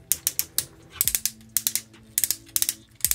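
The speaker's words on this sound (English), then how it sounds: "Shoulders are on a very soft ratchet." A Transformers Bumblebee toy figure's shoulder ratchet joint clicks in quick, soft bursts of several clicks each, repeated as the arm is moved, close and clear with no talking.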